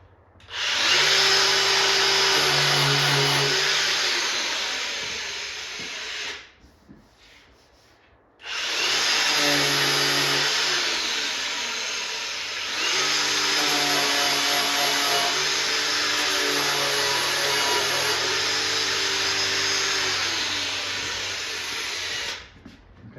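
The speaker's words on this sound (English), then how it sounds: "So all I'm doing is just scuffing it up so that my body filler has something to stick to." A power sander scuffs the paint on a Chevy long bed pickup truck body, a loud steady whirring drone close by, running in two long stretches with a short pause between them.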